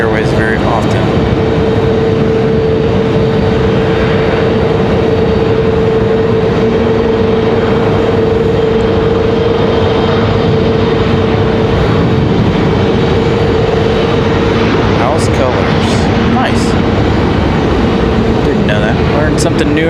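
A Republic Airways airliner departs at night from Raleigh-Durham International Airport, a steady broad roar with a sustained whine that holds throughout, heard from a distance under faint background noise.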